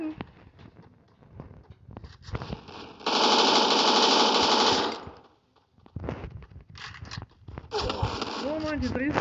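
Free Fire video game gunfire, including shotgun shots, comes in two loud rapid bursts over a couple of seconds each, with a player talking excitedly before, between and after them.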